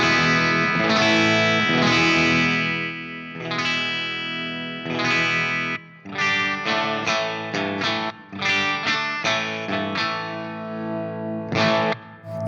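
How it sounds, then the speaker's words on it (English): An Ibanez RG653DX electric guitar plays with a clean tone and its volume rolled back, ringing chords and then choppier strummed phrases with a bright, slightly driven sheen and chorus-like shimmer. "it's a nice, really sort of sparkly, spanky clean tone when you get the volume rolled all the way back to about 1 or 2"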